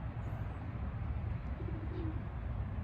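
Racing pigeons cooing at a loft trap, soft repeated coos over a steady low rumble of background noise, no talking.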